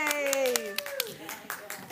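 Scattered clapping greets a speaker at a classroom debate, with a voice calling out in cheer over the sharp, uneven claps before the noise thins out.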